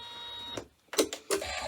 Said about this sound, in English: I am running my machine at 600 stitches per minute